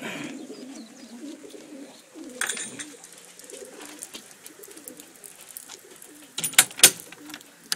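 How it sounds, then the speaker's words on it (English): Soft pigeon coos murmur throughout a loft in Puna, Hilo, Hawaii, low and repeated, with patter of rain and a few sharp knocks and flutters near the end. "Good pigeons."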